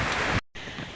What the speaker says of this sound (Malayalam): നല്ല കാറ്റടിക്കുന്നുണ്ടല്ലേ?